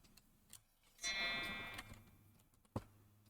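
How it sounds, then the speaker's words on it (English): A cuckoo clock ticks softly in a quiet indoor room, with small regular ticks and a brief louder burst of clatter partway through. "Okay, cuckoo clock, have a moment."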